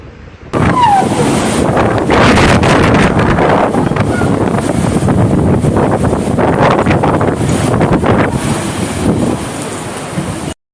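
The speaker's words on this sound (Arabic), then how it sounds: "رياح عاصفية كارثية تضرب" Violent storm winds batter a Moroccan city, a loud, continuous roaring gust that buffets the microphone for about ten seconds with no break and no voices.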